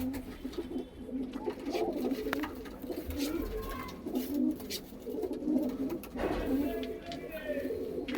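Soft, low cooing of Panjabi Malwai pigeons repeats throughout against a steady background murmur, with occasional faint rustles and distant noises.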